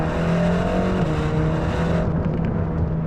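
Mercedes-AMG GT Black Series running hard in Sport Plus, a loud, steady engine drone with a dense exhaust note close by, easing slightly in the final second; no distinct pops or bangs stand out.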